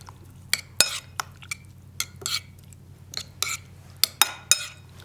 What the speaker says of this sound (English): So you just give that a stir.